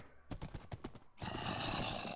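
A video game horse gives a brief whinny over a few quick hoof clip-clops, followed by a burst of broad noisy rushing, all fairly quiet and close.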